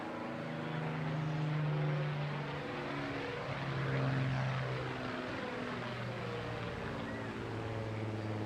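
PZ865, a vintage wartime fighter, drones steadily overhead during a display at the Bournemouth Air Festival, its propeller engine a sustained hum that swells and fades gently as it passes at a distance.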